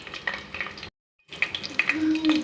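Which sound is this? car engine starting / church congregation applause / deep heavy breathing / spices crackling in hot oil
spices crackling in hot oil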